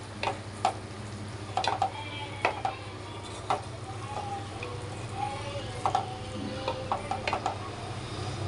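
Chicken frying in a pan, a faint sizzle under a low steady hum, broken by repeated light clicks and taps of stirring spaced irregularly throughout.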